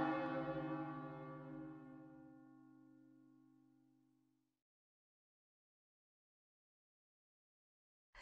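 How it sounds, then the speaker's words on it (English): A single deep church-style bell strikes once in the video game Another Code: Recollection, its rich harmonic tone ringing out and slowly fading to silence over several seconds. "the bell started ringing."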